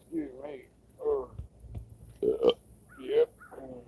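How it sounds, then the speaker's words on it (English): A person lets out a string of loud, throaty burps, several separate eructations spaced across a few seconds, close up with little else around them. "You ever get those spiritual burps?"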